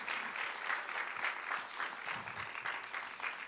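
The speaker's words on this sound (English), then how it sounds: "let's give a round of applause for Jesus" Church audience applauding after a testimony, dense steady clapping from a crowd that holds evenly through the moment, moderately loud with no speech over it.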